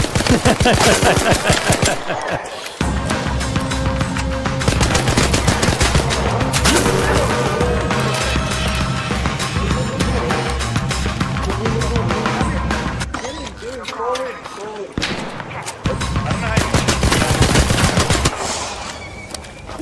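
Rapid automatic gunfire rattles through an ARC Raiders match, with dense bursts of shots nearly throughout, broken by a couple of brief pauses, while players talk over the fighting.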